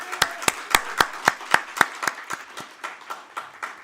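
Applause at a formal speech event in a hall, with a slow run of distinct hand claps that starts strong and fades out over a few seconds.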